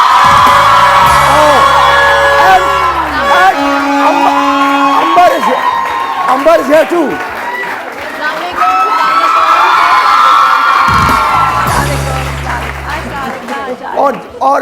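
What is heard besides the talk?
studio audience applause and cheering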